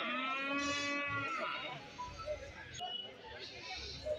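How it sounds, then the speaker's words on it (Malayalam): Livestock calls at a Kerala goat market, where large goats are tied up for sale, sound out in a long, drawn bleat followed by busy market noise and nearby talking. "ഇവിടെ നല്ല സൈസ് ആടുകളെയൊക്കെ വാങ്ങി കെട്ടിയിരിക്കുകയാണ്"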